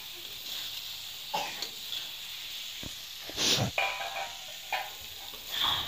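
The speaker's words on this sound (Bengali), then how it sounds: "এভাবে করে মশলার সাথে মিশিয়ে নিতে হবে ডিম কটা।" Fried eggs are stirred into a sizzling curry masala in a pan for a Bengali-style egg curry: a soft, constant hiss broken by short scraping and spluttering bursts as the spoon moves through.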